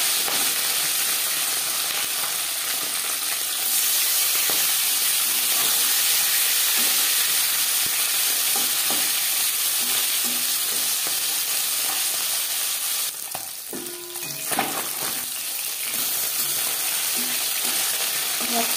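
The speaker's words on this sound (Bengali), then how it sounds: "4 চামচ রিফাইন্ড অয়েল গরম করে নেওয়ার পর দিয়ে দেবো ম্যারিনেট করে রাখা মাছ" Marinated tangra fish hits about four spoons of hot refined oil in a pan, giving a loud, continuous sizzle and hiss that holds steady throughout, with a brief stir or shift of the pieces near the end.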